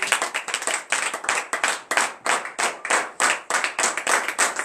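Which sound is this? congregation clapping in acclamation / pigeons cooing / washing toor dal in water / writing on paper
congregation clapping in acclamation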